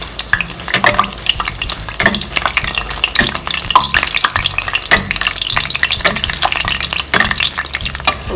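Bake dough frying in hot oil, with oil spooned over its top: a steady loud sizzle and crackle with repeated liquid splashes and scraping stirs throughout, close and busy without talk.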